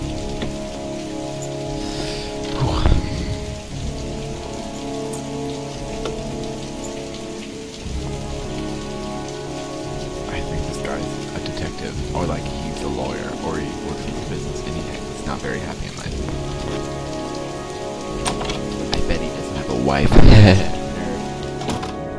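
Heavy rain in the video game Heavy Rain, a continuous loud patter on surfaces with a couple of low thunder rumbles and thuds, steady throughout.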